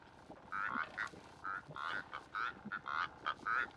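A monogamous pair of Rüppell's korhaans in sparse East African vegetation duet with croaking, frog-like calls, rising in short repeated bursts in a steady back-and-forth rhythm, fairly faint against quiet background hiss.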